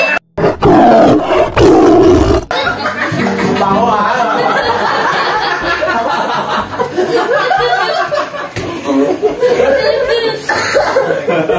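A voice imitates a tiger's loud roar in a bursting growl, followed by chuckles, laughter and lively chatter from several people in a comedy session.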